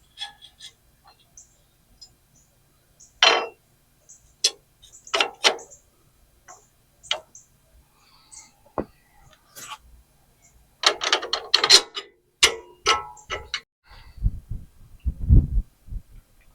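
A ratchet works on U-bolts on a truck axle in quick clicking bursts separated by pauses, with scattered metallic clinks and a denser run of ratcheting clicks toward the end, close and fairly quiet.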